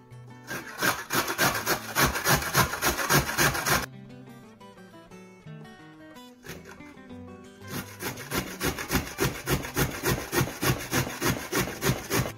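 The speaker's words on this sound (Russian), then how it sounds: "Морковку трем на самой крупной терке." Carrots are grated on the coarsest side of a grater, a close, loud run of rapid rhythmic rasping strokes that pauses briefly midway, then resumes at the same quick pace.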